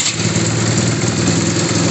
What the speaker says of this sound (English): I'm gonna start the bike now.